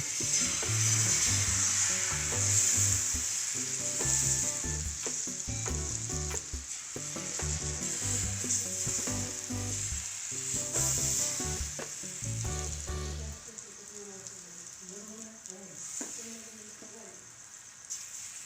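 Besan batter sizzling and frying in a hot pan for a crisp gram-flour flatbread, a steady crackle with intermittent stirring and scraping knocks, fairly close, with background music running throughout.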